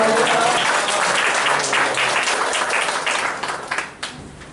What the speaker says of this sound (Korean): 함께 할렐루야 하면서 박수하겠습니다